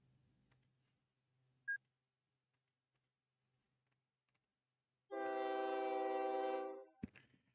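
A train in the Transport Tycoon video game sounds a loud, sustained horn blast of about two seconds, following scattered faint clicks and a short beep, with a sharp click after the horn.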